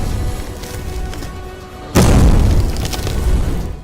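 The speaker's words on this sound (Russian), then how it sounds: "достаточно насыпать их на небольшой пустой чемодан, а потом от души стукнуть по нему бейсбольной битой" A baseball bat strikes a small suitcase filled with sand as a film impact effect: one heavy, booming thud lands partway through over a constant low noise bed, then a dull rumbling tail.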